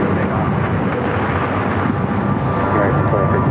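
Southwest airliner taking off from runway 7 left at Phoenix airport, a loud, steady broadband jet roar filling the whole stretch without letting up.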